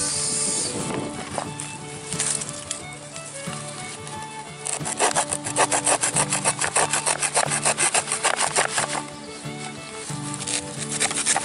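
A survival-kit hand saw rasps through firewood in steady back-and-forth strokes, speeding into a fast, regular rhythm midway, loud and close.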